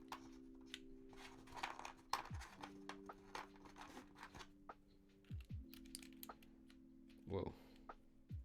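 Typing on a Ramaworks Zenith mechanical keyboard fitted with an FR4 plate, a quiet string of uneven keystroke clicks over a faint steady hum.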